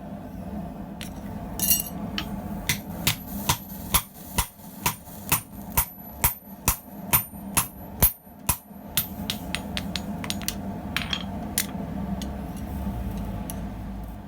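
A hammer strikes a solid punch to form the eye of a hollow-center eye punch, a dozen or so loud, evenly spaced metallic blows close by, slowing and fading toward the end, with no talking.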